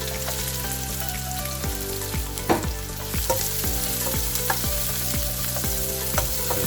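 Garlic sizzles steadily in a hot pan for a Filipino pansit bihon noodle stir-fry, a loud, continuous frying hiss with scattered crackles and occasional scraping stirs.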